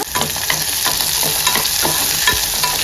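Curry leaves and chopped raw mango frying for mango pachadi, a steady close sizzle with a spoon stirring and scraping the pan in repeated strokes.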